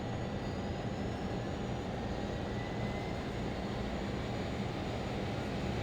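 In a flight simulator, the second jet engine of a Learjet spools up with a steady broadband roar and a faint whine, even and continuous throughout, with no talk.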